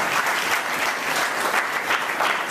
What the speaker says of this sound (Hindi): तालियां बजा के परमेश्वर का नाम।